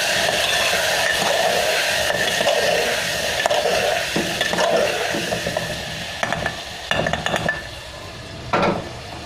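Food for a potato dish is mixed in a sizzling pan, with a steady frying hiss under repeated scraping and clanking of a utensil against the metal, growing more clattery toward the end.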